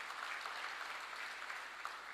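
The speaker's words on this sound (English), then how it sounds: "Can we give them an applause?" A sustained round of clapping rises from the lecture audience in Dar es Salaam for the visiting secondary schools, steady and moderately distant, with no voices over it.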